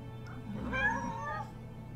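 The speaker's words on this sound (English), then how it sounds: "Let me show you all my hordes of cats." Cats in the video game Final Fantasy VII Remake let out a drawn-out, wavering meow with a second fainter cry, heard quietly over a low game background hum.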